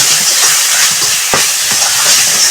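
Masala paste frying in a pan for a mutton kofta curry, a steady close sizzling hiss with occasional stirring scrapes throughout, no talking.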